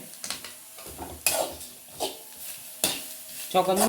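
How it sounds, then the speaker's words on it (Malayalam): Grated coconut with shallots and curry leaves roasting in a pan for a Kerala koottu curry, soft frying crackle punctuated by several sharp scraping strokes of a spatula, close up with no talk. "ഇത് നന്നായിട്ടൊന്ന് ചുവക്ക വറുത്തെടുക്കണം"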